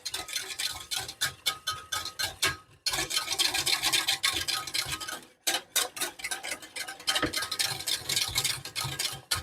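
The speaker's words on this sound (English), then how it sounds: "I take the heat off and I will stir in a couple of egg yolks." Whisk or spoon stirring egg yolks into a hot beef butter sauce, taken off the heat, giving a dense run of rapid scraping, clicking strokes against the pan with two brief pauses.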